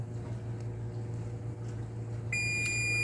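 An oven timer gives a short, clear beep near the end while cheesy beef spaghetti bakes at 400 degrees Fahrenheit. A steady kitchen hum runs underneath throughout.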